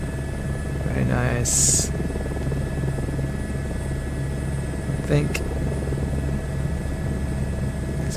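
In Microsoft Flight Simulator 2024, a helicopter touring over Paris gives off a steady, loud rotor and engine drone throughout, while someone talks briefly over it.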